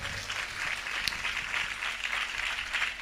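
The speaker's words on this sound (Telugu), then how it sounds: "చప్పట్లు కొట్టొచ్చు కదా." A church congregation at a Telugu sermon applauds in a sustained wash of clapping with an even, continuous texture and one sharp louder clap partway through.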